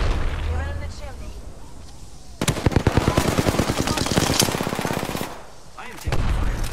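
Rapid machine-gun fire in a shooter video game, a dense stream of loud close shots lasting a few seconds, with voices talking before and after the burst.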